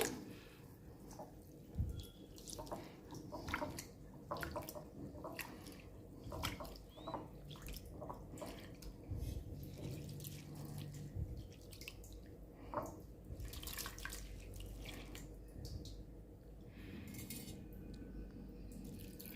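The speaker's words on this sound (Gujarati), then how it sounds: "એને આપણે 3 થી 4 પાણીમાં સારી રીતે ધોઈ લઈશું," Hulled urad dal rubbed and rinsed in water in a bowl, with irregular sloshing, dripping and soft knocks against the vessel going on continuously at close range, no talking.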